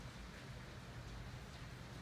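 Rain falling outside, a soft steady hiss of drops with a low rumbling undertone, faint and continuous without any talking.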